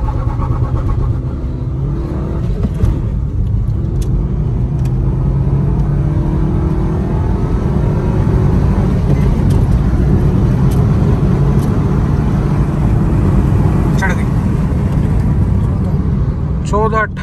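A Maruti Suzuki Baleno petrol hatchback accelerates hard from a standstill with spinning tyres, its engine note loud and steady for the whole stretch, with talk going on over it.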